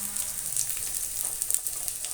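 Pre-fried potatoes hit a hot pan and sizzle briefly, a close, crackling hiss with small spitting pops.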